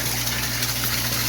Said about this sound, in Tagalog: nag-drain po tayo ng tubig